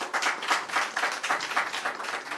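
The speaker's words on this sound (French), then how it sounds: "je voulais que nous applaudissions le ministre pour moi pour ça" An audience applauds the minister at a Haitian health ministry installation ceremony for commune health directors and administrators, an uneven, moderate round of clapping that rises and falls in pulses for a couple of seconds.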